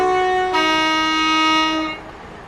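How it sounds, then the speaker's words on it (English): On the Medway Valley Line in Train Sim World 6, a train horn sounds one sustained, bright, loud blast of about one and a half seconds, then cuts off to a quiet rail hum. "That's the horn."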